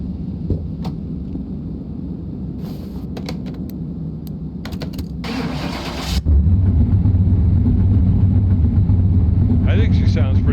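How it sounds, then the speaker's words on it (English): A car engine in Car Mechanic Simulator 2021 starts up partway through and settles into a loud, steady low idle, after earlier game clicks and a rising whir, with brief talk near the start. "I just want to hear what the engine sounds like."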